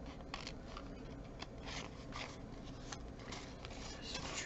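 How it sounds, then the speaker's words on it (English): Scissors trimming the edges of a handmade vintage Christmas card with ribbon, giving a soft series of small snips and rustles close by over a faint steady background, with no talking. "this is when I just go in with a pair of scissors and"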